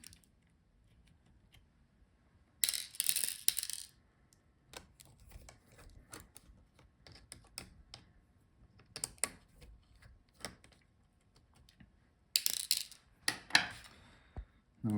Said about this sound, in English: Now unscrew the screws for the fan.